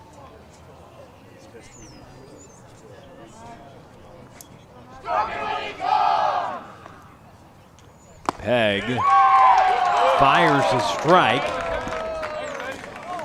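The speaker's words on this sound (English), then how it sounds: "Don't know what kind of cheer that was, but it was a great way to answer it" Crowd at a high school baseball game, Fort Worth Christian vs Liberty Christian: a short chant bursts out, then louder cheering and yelling follows, with a commentator speaking over the quieter opening.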